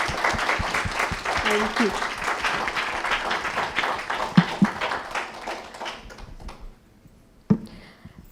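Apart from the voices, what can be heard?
audience applause for speakers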